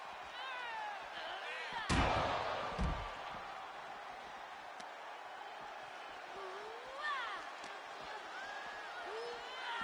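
A wrestling video game impact as a wrestler is thrown over the barricade into the crowd: a heavy slam near two seconds with a second thud shortly after, over steady arena crowd noise and faint whoops.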